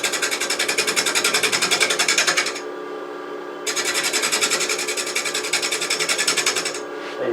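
A lathe turning tool cuts the inside of a large cherry burl bowl, giving a loud, steady rasping scrape with a fast pulsing rhythm from the spinning, uneven wood. The cut pauses briefly, then resumes.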